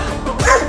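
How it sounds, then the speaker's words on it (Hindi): In a Hindi comedy cartoon a dog gives a brief, loud bark-like yelp over a dense, busy soundtrack. "अरे एक कुत्ता"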